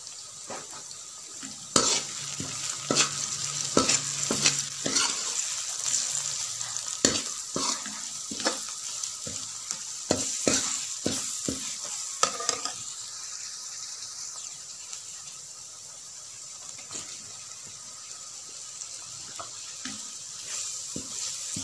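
Spiced stuffing mixture for stuffed eggplant, with turmeric, red chilli and salt, fries in a pan under repeated spoon scrapes and knocks, a low sizzle beneath irregular clattering strokes, close and without talk.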